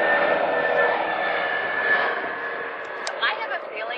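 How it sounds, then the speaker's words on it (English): An airplane passes over an outdoor filming spot, a steady broad roar filling the whole stretch, with brief voice sounds near the end. "there were so many airplanes that would be coming by"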